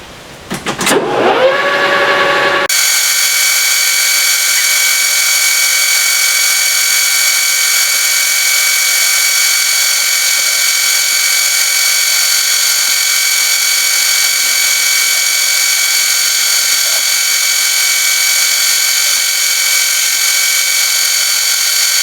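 A machine tool takes a cut on a PTO part, removing metal. A brief clatter as the cut starts settles into a loud, steady, high-pitched whine that holds unchanged for about twenty seconds, close and alone.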